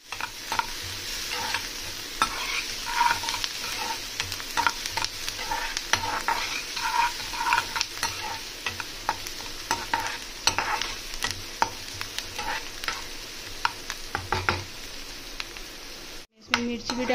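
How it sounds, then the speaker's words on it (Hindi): Chilies sizzle in butter with onions in a pan for pav bhaji, a steady crackling fry with occasional stirring scrapes running throughout at close range. "इसमें मिर्ची भी डाल दिया। अब इसको थोड़ा देर भूनूंगी।"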